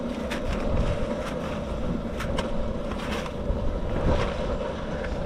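Gusty wind buffets the open outdoors on a breezy day, a rough, rumbling whoosh with irregular bursts and flutters, steady and moderately loud throughout with no talking.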